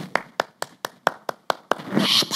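A single person in a church sermon claps hands eight times at an even, brisk pace, crisp and close, before the claps give way to a brief burst of rustling noise.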